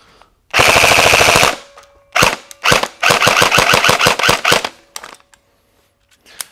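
KWA Ronin T10 airsoft gun fired on full auto: a long, loud, continuous rattling burst, then a few short bursts and one longer rapid string, ending in scattered single clicks.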